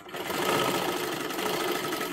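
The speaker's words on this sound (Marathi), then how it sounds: "अशा पद्धतीने हे आपल्याला शिलाई करत करत घ्यायचं आहे." A sewing machine stitching a princess blouse runs steadily and closely throughout, a dense continuous mechanical whir with no pauses.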